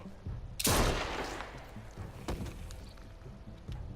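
Gunfire in The Walking Dead game: a loud close burst of shots erupts, followed by a few sharper single reports and faint echoing clatter, with no speech over it.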